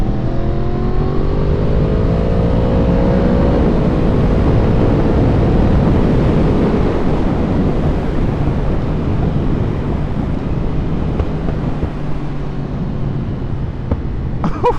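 A Yamaha R1 sport motorcycle accelerates hard on the road, its engine note climbing through the revs and then settling, heavily buffeted by loud wind rush from riding speed, with no talking.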